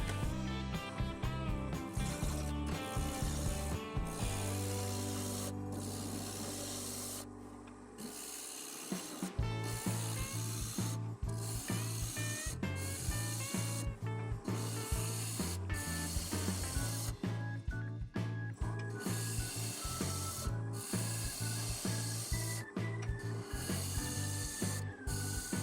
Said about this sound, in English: I'm going to be turning this at 1000 RPM using my 1¼ inch spindle roughing gouge